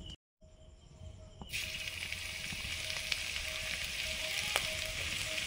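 Refined vegetable oil sizzles steadily in an iron wok, a continuous close hiss that starts abruptly after a brief pause and holds at an even level with no talking.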